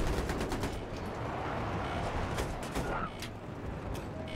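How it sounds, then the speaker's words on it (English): Dense bursts of gunfire ring out from an alleyway in a team-based online shooter, rapid crackling shots overlapping continuously at moderate distance with a few sharper reports standing out. "They're shooting out of the alleyway too."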